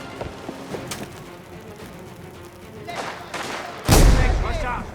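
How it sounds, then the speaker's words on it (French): Gunfire and a thrown explosive in the video game Mafia: The Old Country, with scattered shots and thuds building to a loud close blast at about four seconds that rumbles on to the end of the clip. "Je lance un explosif!"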